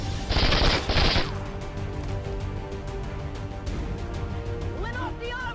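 Gunfire aimed at a super heavy turret in XCOM 2 Long War 2: two loud close bursts of rapid automatic fire at the start, followed by rumbling battle ambience and faint electronic chirps near the end.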